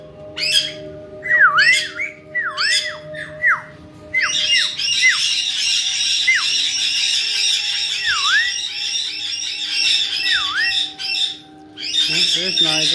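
Pet birds squawk loudly and repeatedly, with rising whistled notes and rapid chattering calls close by, nearly continuous over several seconds, with people talking in between.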